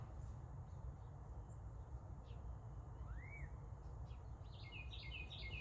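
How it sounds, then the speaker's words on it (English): Faint, distant birds chirp outdoors in the morning: a single rising whistle, then a short twittering trill, over a steady low background hum. "I love the sound of birds chirping."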